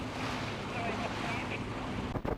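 A steady wash of engine drone and churning water from about 30 boats across half a mile of sea, loud and continuous, with wind buffeting the microphone.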